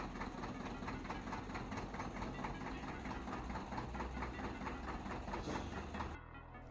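A seller's forklift engine runs steadily while hoisting the old motor out of a 1980 Bayliner powerboat, with a regular pulsing chug, close and loud, that drops away near the end.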